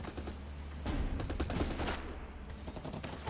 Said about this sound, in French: En ville, ça tire.